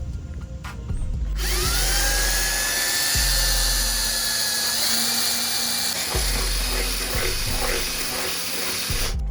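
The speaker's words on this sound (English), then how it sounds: "I'll go ahead and hook her up and we'll start drilling" A power drill whines loudly at a steady high pitch as it bores into metal, with grinding and scraping noise underneath and brief changes in tone.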